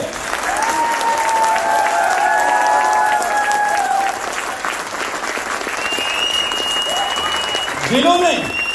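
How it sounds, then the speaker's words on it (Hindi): Audience applause fills an award ceremony at the Radisson Blu hotel, a steady sustained clapping with some crowd noise and voices over it throughout. "क्या इतनी भी तालियां होनी चाहिए उनके लिए?"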